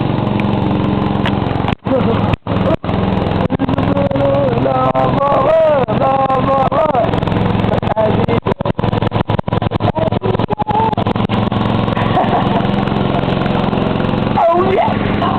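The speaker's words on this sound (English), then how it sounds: "Man on the lawnmower" Riding lawn mower engine running steadily and close, a loud continuous drone with slight pitch wavers, while people talk and exclaim over it.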